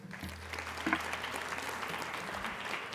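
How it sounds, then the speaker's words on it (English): Steady applause from an audience, a dense patter of clapping that holds evenly throughout. "Please, a round of applause."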